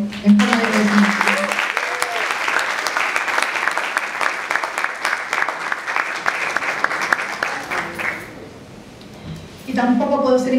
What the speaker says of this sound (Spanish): pido un fuerte aplauso en forma de agradecimiento